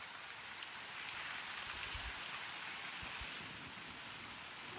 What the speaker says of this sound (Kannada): ಮಳೆ ಬರ್ತಾ ಇದೆ ಸ್ನೇಹಿತರೆ ಈಗ